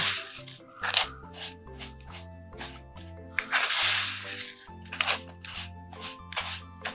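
A spoon mixing and pressing a gritty unicorn sugar scrub in a bowl, repeated scraping and crunching strokes in an uneven rhythm, close and quiet.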